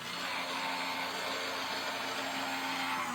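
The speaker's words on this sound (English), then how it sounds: "you're going to hear my die cutting machine off camera because it is electric" An electric die cutting machine for paper crafting runs steadily off to the side, giving a continuous motorized hum and whir with a faint tonal drone, loud and unbroken with no talking.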